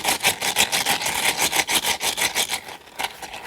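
Rhythmic gritty squishing of a liquidless bead-filled unicorn stress ball, repeated close rasping pulses, loud and steady, easing slightly near the end.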